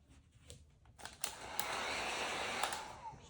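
A heat gun blasts steady hot air onto a vinyl door wrap, a close, rising rush of airflow lasting a couple of seconds after a few soft handling clicks.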